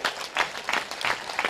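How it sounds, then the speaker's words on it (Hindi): An audience claps at a spiritual discourse in bursts of applause that swell and ease in a rhythmic pattern, fairly close, with no one speaking over it. "तुम ताली ठोको अपने लिए"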